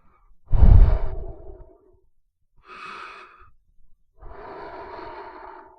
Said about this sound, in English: like someone breathing there.